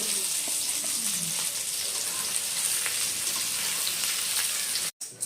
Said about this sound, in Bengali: বন্ধুরা, আমাদের মাছ কিন্তু একদম প্রপার ভাজা হয়ে গেছে